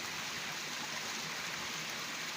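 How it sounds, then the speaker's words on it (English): Warm spring water bubbling and flowing steadily out of its source at Ikogosi, a continuous close, even wash of running water with no pauses. "As the water is bubbling out, it's forming, it's flowing."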